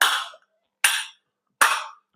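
A kartal is struck in closed style with both thumbs touching the wooden clappers, giving three short, dry, damped clacks spaced almost a second apart, each cut off quickly with no ringing, heard alone in a quiet room.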